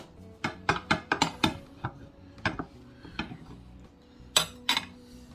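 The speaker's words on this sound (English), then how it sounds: "Now I'm gonna cut into my banana bread." A knife cuts into a loaf of homemade banana bread in a run of quick, sharp taps and scrapes. Pauses separate the strokes, and two louder clacks come near the end.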